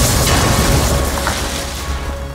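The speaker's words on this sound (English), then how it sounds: "Just in time for the fireworks!" Fireworks in the Amazing Spider-Man video game produce a loud, dense rumbling burst of booms that fills the whole moment and slowly fades, with no talk heard.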